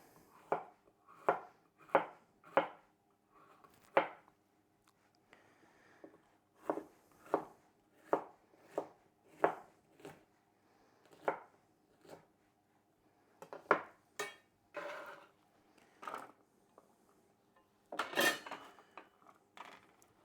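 A knife cuts a pepper into strips and chunks on a board, giving sharp, close chopping knocks in quick bursts of several strokes separated by short pauses. The knocks are fairly quiet and no one speaks.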